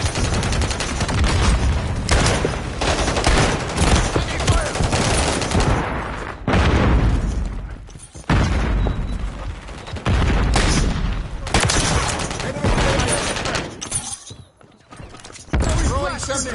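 Call of Duty gunfire, loud rapid machine-gun bursts and fusillades in repeated volleys separated by brief pauses, close and dominant, with mechanical clicks between and a short callout voice mixed in.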